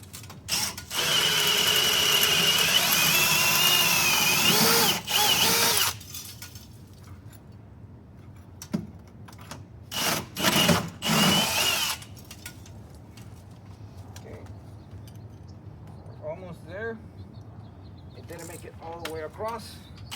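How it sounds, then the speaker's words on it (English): Power drill boring through a house wall toward the garage during a security camera installation, a loud sustained whine for several seconds, then short bursts and rattles, followed by quieter talk. "So let me drill straight through and see where it comes out in the garage."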